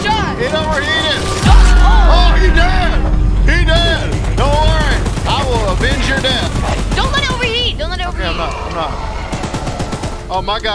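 Mounted gun firing in the video game Choo Choo Charles, sustained rapid gunfire rattling for several seconds alongside a deep rumbling hit, heard under excited voices shouting and yelling over it.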